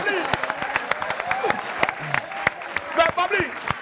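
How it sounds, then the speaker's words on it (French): Audience applause at a live show for a guest, scattered sharp hand claps mixed with voices talking and calling out close by. "Applaudissez s'il vous plaît pour Babli"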